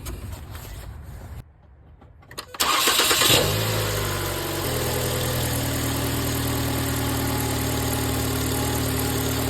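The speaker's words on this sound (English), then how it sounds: "So let's go ahead and start the car." A 2009–2012 Ford Escape 2.5L with a faulty, stuck canister purge valve cranks after a brief quiet, catches with a loud surge, then settles into a steady idle that continues to the end.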